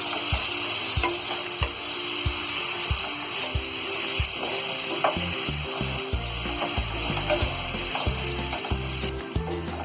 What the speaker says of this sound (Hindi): आलूओं को हम हल्का सा गुलाबी होने तक फ्राई कर लेंगे